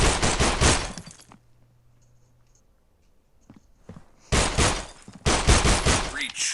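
Gunfire in the mobile shooter Critical Ops comes in loud rapid bursts, first at the start, then after a quiet pause with a few isolated shots, and again in two dense volleys near the end.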